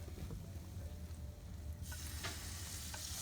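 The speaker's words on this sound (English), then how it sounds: "See how it sizzles like that?" Shrimp poppers fry in hot oil with a soft, steady crackling sizzle, faint and close, brightening slightly toward the end.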